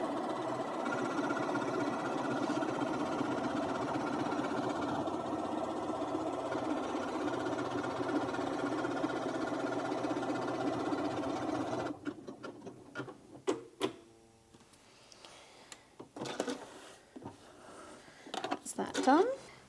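A Janome Memory Craft 9480QCP sewing machine stitches a buttonhole in a steady, close mechanical whir for about twelve seconds, then stops, leaving scattered small clicks and handling noises.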